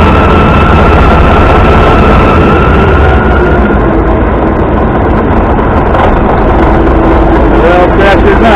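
Caterpillar D8K bulldozer diesel engine running at low idle after an oil change, a loud, steady, close rumble that fills the whole stretch without letup.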